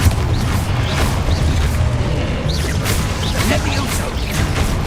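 Confringo fire-blast spell in the game Hogwarts Legacy, loud booms and whooshing bursts amid continuous battle effects.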